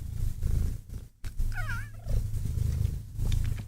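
A cat gives a short wavering meow, faint and brief, over a steady low hum and room noise.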